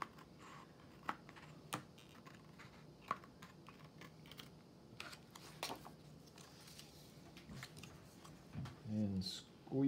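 Quiet snipping and rustling of paper being cut, a series of small crisp clicks with soft handling noises in between.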